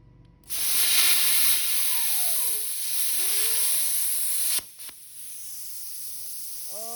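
A Hynade 55A plasma cutter slicing through metal gives a loud, steady high-pitched hiss that starts abruptly, holds for about four seconds and cuts off, followed by a faint whirring and a quiet clink.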